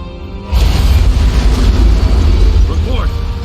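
In a Halo CE cutscene, an antimatter charge detonates with a sudden deep boom that rolls on into a long, loud rumble. The rumble fills the rest of the moment, with faint higher sweeps near the end.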